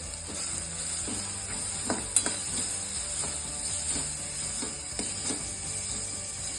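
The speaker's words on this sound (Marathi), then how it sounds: "आणि मसाले चांगले एकत्र करून घ्यायचे." Onion, turmeric and red chili masala sizzles steadily in a pan for eggplant bharit, with soft, irregular spoon scrapes and taps from stirring every second or so; no one speaks.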